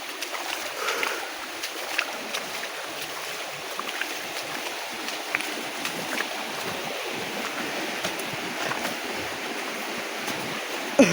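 Steady broadband rush of a river flowing through a forest on a jungle trek toward a waterfall, continuous and fairly close, with no talk over it.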